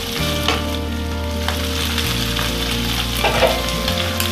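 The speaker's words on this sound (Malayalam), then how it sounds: "നല്ലപോലെ നമുക്ക് ഫ്രൈ ചെയ്ത് എടുക്കാം." Beef frying in ghee for beef kothu biryani, a steady loud sizzle with continuous crackle and occasional stirring scrapes, close up and with no talking.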